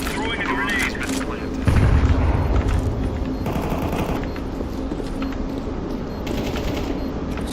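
Grenade detonating in a Counter-Strike 2 match, a loud broadband boom near two seconds amid continuous gunfire and game noise, with a player speaking over it.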